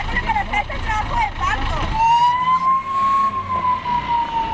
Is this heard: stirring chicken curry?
no